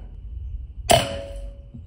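A PCP B57 4.5mm air rifle fires at a water-filled can, one sharp crack followed by a short metallic ring that fades out quickly, close and alone against a quiet background.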